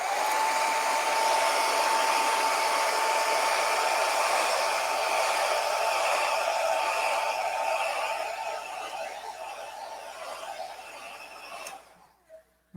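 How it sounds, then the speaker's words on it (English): A hair dryer runs continuously at close range, drying acrylic paint on a canvas, a steady whirring blow with a high whine that fades and then cuts off near the end. "I'm going to take my blow dryer and dry it."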